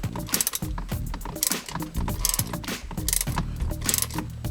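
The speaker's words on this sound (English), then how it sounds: "you're gonna need your ratchet, apparently, and the Torx bit, in order to just break the tension" Ratchet with a Torx bit working the steering wheel airbag bolts on an Infiniti/Nissan, rapid close clicking pawl ratchets in bursts with metallic clunks, no talking.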